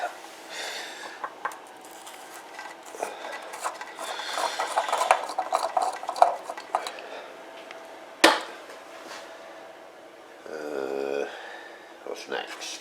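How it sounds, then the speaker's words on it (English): The hopping cap is unscrewed from the back of a Pinter beer-brewing device, giving scraping and rubbing plastic sounds with small clicks. One sharp knock comes partway through, then a short burst of grinding rotation. "Unscrew the hopping cap from the back of the pinter"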